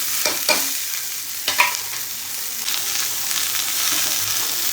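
Onion and tomato sizzle and fry steadily in a pan alongside dried bombil fish, with a few sharp scraping stirs near the start, heard alone without talk.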